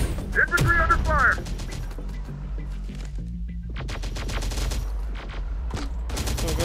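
Gunfire crackles during a battle in Terminator Dark Fate Defiance as scattered bursts of sharp shots, loud at first, then quieter and building again, mixed with brief game voice callouts and other effects.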